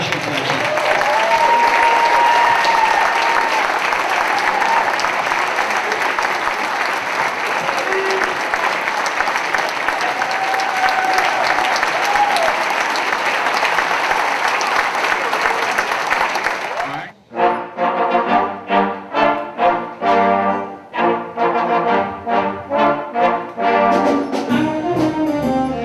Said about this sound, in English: Nice round of applause for the percussion section.